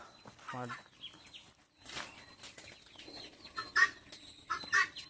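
Hen clucking in short bursts close by, with a person talking and calling over the birds.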